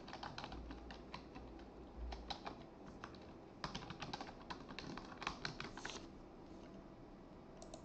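Someone types credentials on a computer keyboard with soft, quick keystroke clicks in irregular bursts, faint and close with light room hiss in the background.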